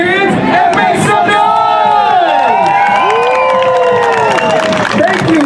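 A street crowd in Times Square cheers and shouts at a street performance, loud and continuous, with whoops and voices over steady clapping and a layer of sirens or horns.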